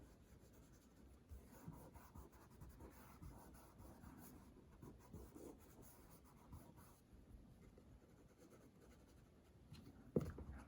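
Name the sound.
pencil shading on paper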